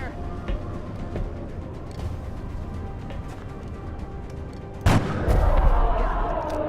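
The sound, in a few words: gunfire in the video game XCOM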